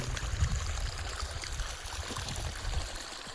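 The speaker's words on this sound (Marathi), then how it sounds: "ते पाणी चालू आहे ना त्या पाणीचा आवाज कॅप्चर होऊन जाते इथं" Water in a forest stream rushes steadily and fairly loud, a continuous broadband flow with no speech.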